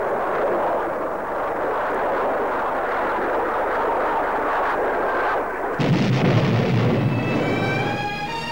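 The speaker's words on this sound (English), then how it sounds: "And sometimes by cannon fire, as in this classic camera gun film." Aircraft cannon fire in old camera gun film of air combat, a loud, dense roaring burst that runs steadily for several seconds, then shifts to a harsher, heavier rattle near the end.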